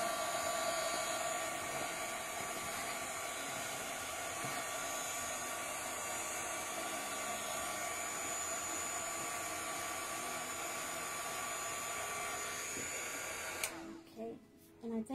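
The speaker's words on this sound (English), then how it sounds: "And with the heat gun, as you go, you can see, I won't be able to put it up there, but you can see where it starts drying the quickest." A heat gun blows steadily up close, drying paint on a mushroom gnome candle holder; a continuous loud whooshing whine runs almost fifteen seconds before cutting off, followed by brief handling noises.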